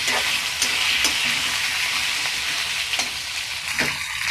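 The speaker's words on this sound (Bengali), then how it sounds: "আলুগুলো ভাজা নেব ততক্ষণ।" Potatoes fry in a pan of hot oil, giving a dense, continuous sizzle with occasional soft stirring knocks, close and steady throughout.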